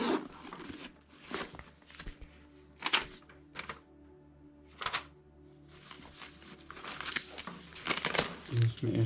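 A camera bag is unzipped and opened during the unboxing of a Sony Alpha 7R Mark III, with crinkling packaging and zipper rasps in uneven bursts and a voice speaking now and then.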